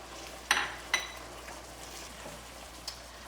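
Green onions go into a pan of a spicy soy-sauce dish and get stirred: two sharp metal clinks of a utensil against the pan, close and distinct, then a faint low sizzle with a last light tap.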